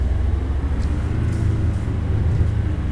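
V8 muscle car in the Assetto Corsa racing game, a deep, loud, steady engine rumble under full throttle, close and continuous with no talking.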